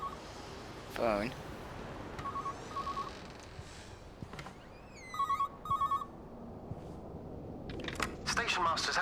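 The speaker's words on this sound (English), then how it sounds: "Phone." A telephone rings in the video game Everybody's Gone to the Rapture, several short repeated ring bursts spaced across the clip over a steady ambient hum, with brief tonal chirps between them.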